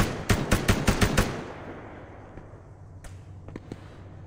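Rapid burst of about six gunshots from an Arma 3 police side-op firefight, loud and close, followed by a few fainter scattered shots in the distance.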